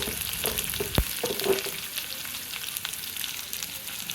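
Onions fry for poha upma in a pan, a steady close sizzle and hiss with a few soft stirring knocks.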